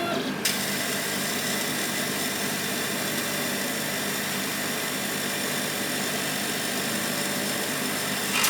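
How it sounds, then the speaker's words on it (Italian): A power tool cuts the front panel for a homemade curve tracer, giving a steady, loud, continuous mechanical whine and hum that holds without a break from start to finish. "E dopo l'incisione passiamo al taglio."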